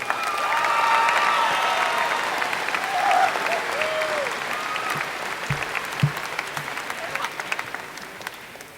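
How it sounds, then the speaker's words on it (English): A graduation ceremony audience at Mountain Crest High School applauds steadily, a full sustained round of clapping with some cheering, fairly near and filling the hall, tapering slightly toward the end. "Let's give them a round of applause also."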